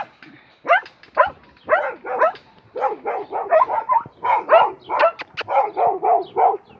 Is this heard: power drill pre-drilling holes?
no